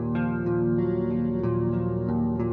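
Electric guitar clean tone through a Boss CE-2 chorus model on a Fractal FM3/FM9/Axe-FX III, with slight drive and low and high cuts, playing steady sustained chords with regular picked attacks, close and full, no talking.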